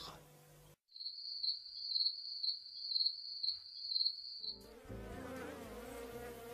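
Orthopteran insect stridulating as a leg rasp rubs over its wing veins, a steady high buzzing trill with regular pulses, heard alone for several seconds between other sounds.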